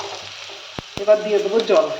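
Eggplant pieces frying in a pan with turmeric, a steady sizzle with a couple of sharp stirring knocks and scraping, while someone speaks briefly over it.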